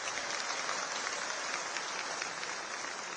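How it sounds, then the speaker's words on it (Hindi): An audience at a political stage event in Delhi claps steadily, a dense, continuous wash of applause throughout. "आप ताली बजाएंगे तो हम गाएंगे"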